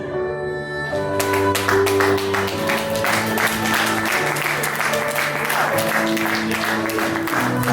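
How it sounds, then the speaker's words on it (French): Wedding guests applaud the newly married couple at a nuptial ceremony, steady clapping beginning after a second and continuing loudly, mixed with sustained music tones and some voices. "On applaudit monsieur et madame lui. Chaudement s'il vous plaît."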